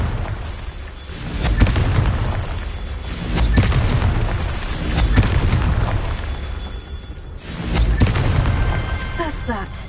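Confringo blasting spells in Hogwarts Legacy burst in several heavy, rumbling explosions a few seconds apart, loud and near, with swelling low booms over busy combat ambience.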